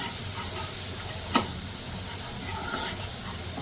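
Fine-chopped garlic frying in a pan for a KFC-style chicken over rice dish, giving a steady, close hissing sizzle throughout with one brief clatter of stirring.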